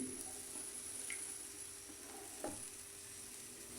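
A pot of beef skin curry with lemongrass simmers quietly, giving a soft, continuous bubbling hiss with a few faint clicks and a brief stir.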